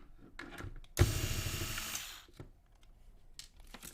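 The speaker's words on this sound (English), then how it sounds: "hold this fast screwdriver, so I do not really know if there's some real" A fast battery-powered electric screwdriver whirs loudly for about a second, a sharp start then a steady high-pitched motor buzz, with faint handling noise before and after.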